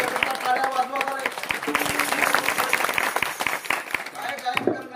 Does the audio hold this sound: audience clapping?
yes